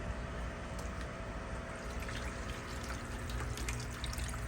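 Water runs from a valve on a fish tank in an aquaponics setup, a soft, steady trickle and splash that continues without pause at low volume.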